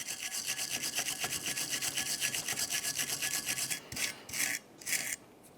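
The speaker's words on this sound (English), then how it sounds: "To clean this, we'll just use a small wire brush." A small wire brush scrubs a front brake caliper bracket on a 2009-2019 Ford Flex, giving a steady fast rasping scrape close up, then breaking into a few short separate strokes before stopping.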